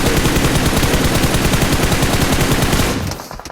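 Rapid automatic gunfire in a mobile battle-royale shooter during an Arabia event, loud steady rattling shots continuing without pause, then tapering off abruptly near the end.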